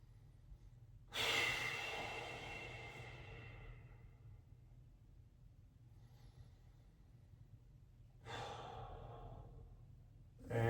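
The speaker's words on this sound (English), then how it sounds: "Couple more big breaths here." Two deep, long breaths are heard during a Foundation Training woodpecker rotation exercise for hamstrings and glutes, each a loud airy exhale that fades slowly, separated by several seconds of quiet.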